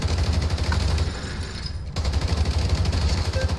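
Gunfire from a sniper rifle in the Division 2 video game: loud, dense rapid bursts of shots rolling almost continuously, with a brief dip partway through before firing resumes.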